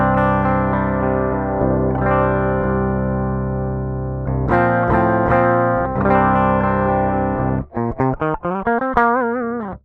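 A clean, unprocessed electric guitar played direct into an Apollo Twin interface, loud and dry with sustained ringing chords, then a quick run of choppy, bending single notes near the end; no voices.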